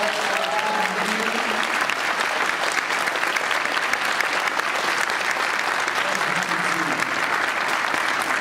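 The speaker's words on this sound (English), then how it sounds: "Let's give him one more round of applause." Sustained audience applause for Bret Hart closes a panel at Motor City Comic Con 2014: a roomful of even, dense clapping runs throughout, with faint crowd voices mixed in.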